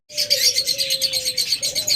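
Caged pet cockatiels and budgerigars chirp together in a busy, continuous chatter of bright high calls, with a steady thin whistle running underneath, close and fairly loud.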